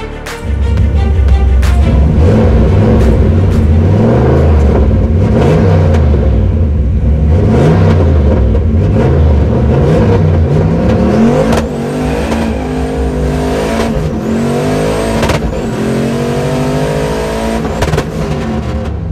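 A turbocharged stick-shift Foxbody drag car on radials launches down the quarter-mile strip, its engine roaring loud and close throughout, pitch climbing through gear changes with brief dips at each shift.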